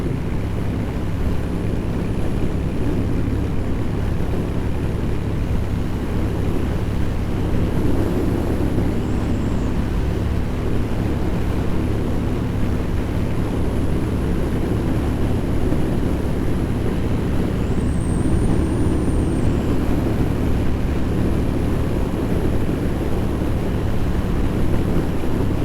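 Steady, loud wind roar buffets the inside of a motorcycle helmet while riding, a constant broadband rush that never lets up, with faint engine tones beneath.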